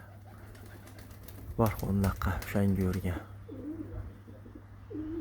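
Pigeons at a loft, with eggs and young nearby, give a few low coos after someone speaks, softly and close by.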